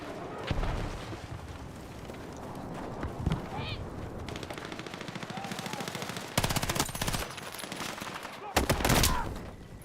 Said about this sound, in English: rando shooting at me after I finished killing the guy